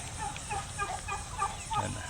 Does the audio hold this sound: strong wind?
no